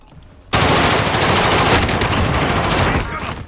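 Rapid automatic gunfire in the Call of Duty Warzone battle royale, a loud sustained burst of shots that starts abruptly and rattles on for about three seconds before easing off slightly.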